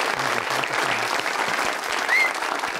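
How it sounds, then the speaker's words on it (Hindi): Loud studio audience applause for a singer on an Eid-ul-Adha special TV show, steady dense clapping filling the whole stretch with a faint voice briefly under it. "जोरदार तालियां"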